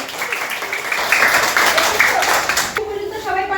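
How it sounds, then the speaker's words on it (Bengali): A classroom of schoolchildren claps loudly for a classmate named Maisha, an irregular burst of hand claps, with a voice rising over it near the end. "মাইশার জন্য একটা জোরে হাততালি হবে"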